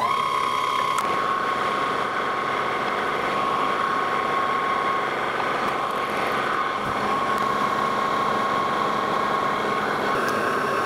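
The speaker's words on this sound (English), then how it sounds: "And so we'll just go ahead and fire up the lathe," A metal lathe runs steadily while facing stock for a spindle sander arbor, a continuous motor hum with a tonal whine and light cutting noise, close and even.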